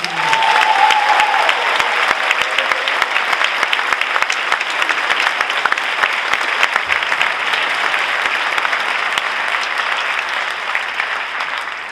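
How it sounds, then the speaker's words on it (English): Sustained, dense audience applause filling a school band's fall concert hall, loud and even throughout without pause, with no distinct voices standing out. "can we give a round of applause to Kelly Raleigh, Elena McInerney, and Drew Novak, please?"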